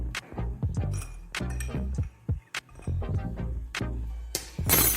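A spoon stirring butterfly pea flower tea in a glass, with a quick run of bright, close clinks and taps against the glass, irregular and unaccompanied.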